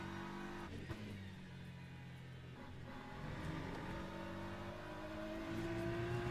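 BMW M4 GT3 race car engine at Sebring in the Le Mans Ultimate racing game, droning steadily and rising in pitch as it accelerates through the gears, loud and continuous with no talk.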